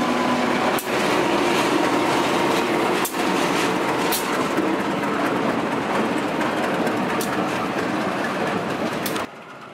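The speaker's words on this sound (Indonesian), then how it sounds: "Tidak lama kemudian, loko ini pun dilangsir masuk ke Baliasa Yogyakarta" A BB304 diesel locomotive being shunted from the northern track of Lempuyangan toward Yogyakarta, giving a steady loud rumble with a few sharp knocks, continuous and close until it drops away at the end.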